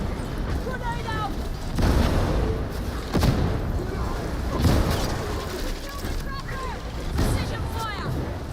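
A grenade in Darktide goes off with deep booming blasts, joined by repeated heavy gunfire bursts in a chaotic fight, while voices talk over the din.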